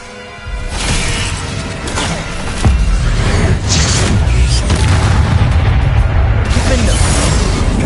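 Confringo fire spell explosions in the video game Hogwarts Legacy, loud booming blasts and crashing impacts in rapid succession over dense battle noise, with a spoken voice underneath.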